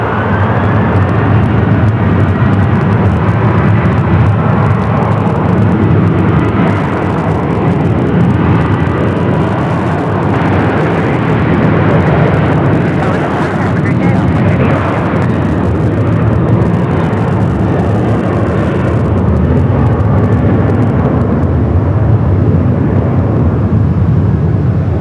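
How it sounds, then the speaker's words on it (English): An American Airlines Boeing 737-800 roars loudly and steadily through its takeoff roll on runway 25 right at Phoenix Sky Harbor, with a sustained jet engine rumble and whine and no speech. "American 737-800 American now starting his roll down at 25 right."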